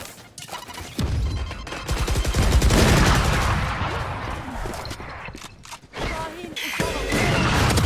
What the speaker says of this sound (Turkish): Zınk bitiriş efekti çok iyi ya